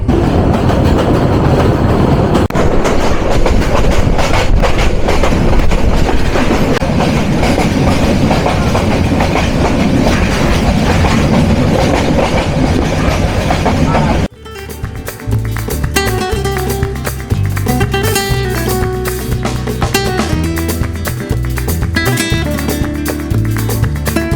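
The Parabat Express train runs from Dhaka to Sylhet with a loud, continuous rumble of the rails, then rhythmic clickety-clack wheel beats over the track joints after an abrupt shift in the sound.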